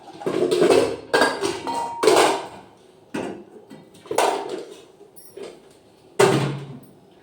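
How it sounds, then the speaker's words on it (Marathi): A metal cooking pot is set onto a stove with a series of sharp clanks and knocks, about six distinct metallic hits separated by brief quiet gaps, close and loud. "तर मी गंज मांडला आहे"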